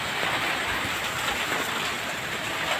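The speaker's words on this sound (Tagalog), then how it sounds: "Naririnig nyo naman, di ba, umuulan?" Heavy rain pours down steadily, a dense unbroken hiss of drops drumming on surfaces close by, with no other sounds standing out.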